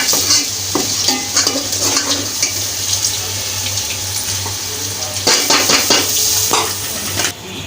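Onion paste with green chili fries and sizzles in a pan for a chicken dahi curry, a steady close hiss with scraping stirs, and the clink and rattle of utensils.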